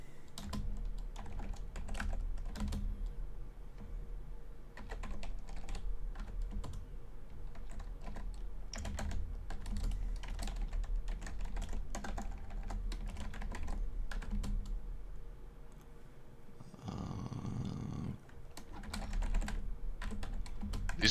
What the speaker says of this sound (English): I'm typing this thing out